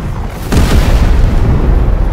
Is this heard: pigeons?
no